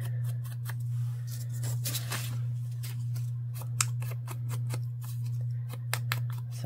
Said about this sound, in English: And I cut out Effie